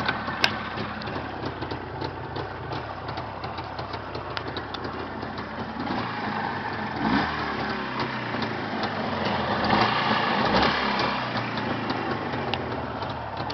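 A Jawa motorcycle engine runs steadily at a fairly quiet, even idle, a continuous low mechanical putter that swells slightly toward the end.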